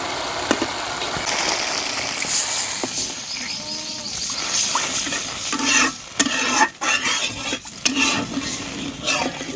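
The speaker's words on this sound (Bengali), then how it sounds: "এই যে এখন মশলাটা কষায় নিচ্ছি" A spice paste for a Bengali climbing perch (tel koi) curry sizzles in hot oil while a spoon scrapes and stirs it in the pan, with repeated close, loud scraping strokes over the steady frying hiss.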